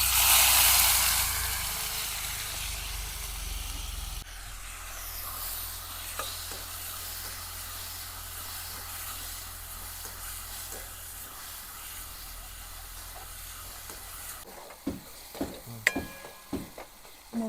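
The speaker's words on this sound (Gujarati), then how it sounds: "તેલ આવી ગયું છે તો આપણે રાઈ નાખી દઈશું. જીરું નાખી દઈશું. તો આપણે ટમેટા મોળ્યા હતા એ પણ નાખી દઈશું એમાં." Mustard seeds, cumin and tomatoes hit hot oil with a loud hissing burst, then settle into a steady close sizzle. Near the end there are a few sharp scraping clicks from stirring, and no talking.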